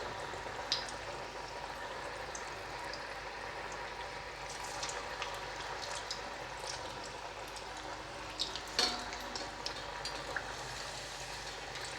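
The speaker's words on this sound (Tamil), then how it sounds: "இப்போ நான் எண்ணெய் வச்சுருக்கேன், வடை போட்டு நான் காமிக்கிறேன்." Sweet corn vada fry in hot oil with a steady, close crackling sizzle and a few brighter pops along the way.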